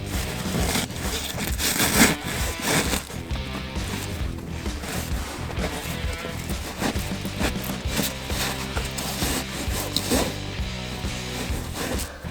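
A seat cover is pushed between the back and bottom of a Toyota Tacoma front seat, making close, continuous rubbing and scraping of fabric in irregular bursts.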